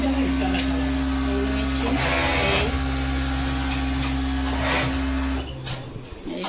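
Garment factory machines making T-shirts run with a loud, constant droning hum and rattling clatter, a steady mechanical din that dips slightly near the end.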